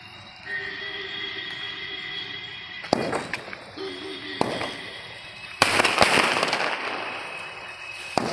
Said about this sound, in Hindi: 12 शॉट को जलाते हैं, लगाते हैं इसमें आग।